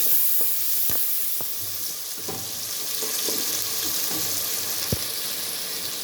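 Curry leaves hit hot oil for a dried fish curry, giving a loud continuous sizzle and hiss with a few sharp pops and stirring clicks, close up and with no voices.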